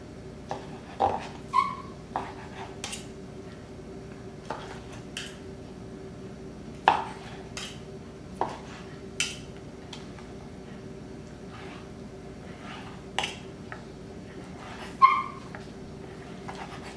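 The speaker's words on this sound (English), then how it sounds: "You can hear my dogs barking." Pet dogs bark in short, scattered yips and whimpers at some distance while waiting for chicken in a home kitchen, fairly quiet, with gaps of a second or more between calls.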